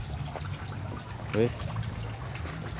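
Water drains out of a tilapia pond in a steady low trickle and gush beneath someone speaking briefly.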